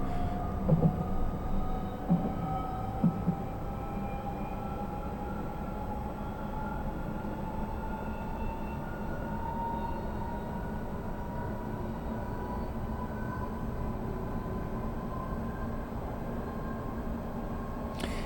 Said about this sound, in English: Like being on an overground train.